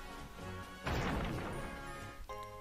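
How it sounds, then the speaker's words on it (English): Rock Smash in Pokémon Omega Ruby, a loud crunching crash of a rock breaking apart over steady game music, with no talking. "which is why we're Rock Smashing all of these."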